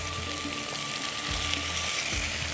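Chopped tomatoes dropped onto lightly fried onions in a hot pan, a continuous bright hiss of sizzling oil filling the short moment, close and steady with no talk.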